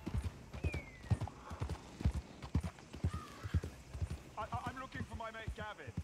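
Horse hooves clip-clopping in a steady rhythm while riding in the video game Red Dead Redemption 2, with creaking tack and a brief whinny-like snort, and someone speaking over it.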